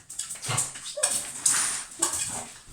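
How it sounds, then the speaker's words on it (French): A dog whimpers and yips in short bursts to be let in, close and fairly loud, with its cries coming in several uneven runs across the moment. "je vais ouvrir à le chien parce que là il commence à faire le cirque"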